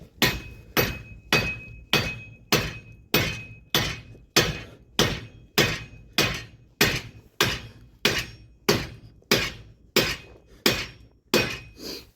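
Steady, evenly spaced hammer blows strike a nut threaded onto a GMC Acadia axle end during a hub bearing and rotor replacement, about twenty sharp metallic hits ringing out close and loud with no talking.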